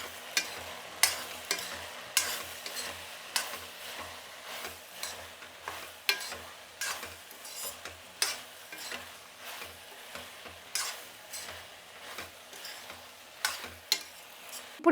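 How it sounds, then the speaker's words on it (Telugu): Broad beans and tomatoes with turmeric stirred in a pan, a steady series of scraping spoon strokes with soft sizzling underneath, close and fairly quiet, no voices. "ఇప్పుడు దీన్ని బాగా కలుపుకునేద్దాం."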